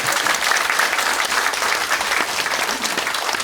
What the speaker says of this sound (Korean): 우리 뒤에 우리 주민들께서 박수 한번 부탁드리죠.